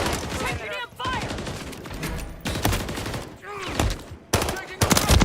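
Dense, loud gunfire in a first-person shooter match, with rapid overlapping bursts and shots running continuously throughout, and voices talking over the firefight.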